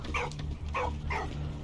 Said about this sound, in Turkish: Bu, bu köpek salak.